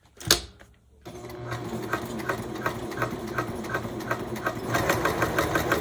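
Sewing machine stitching with a cording foot after a brief click, a steady rapid mechanical whir with rhythmic needle ticks that grows slightly louder toward the end, without any speech.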